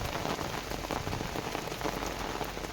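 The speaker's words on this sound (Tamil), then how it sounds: "தொடர்ந்து மழை பெஞ்சிக்கிட்டே இருக்குது" Steady rain falls on a rooftop terrace garden during a stretch of monsoon downpours, a dense, even hiss of drops with no pauses and no voices.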